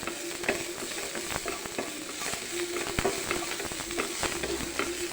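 Continuous sizzling of rice frying in ghee in a pan for ghee rice, with repeated scraping and clinking as it is stirred, close and moderately loud.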